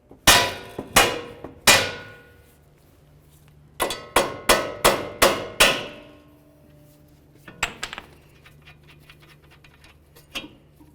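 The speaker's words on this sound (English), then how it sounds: "you can just give the knuckle itself a couple loving bonks with a hammer" A hammer strikes the steering knuckle of a 2012-2016 Subaru Impreza in sharp, ringing metal blows: three spaced hits, then a quick run of five or six, followed by lighter taps.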